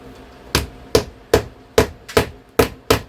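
Sharp hammer blows drive fasteners into a wooden boat seat board, eight evenly spaced, close and loud strikes with brief ringing decay and quiet between them.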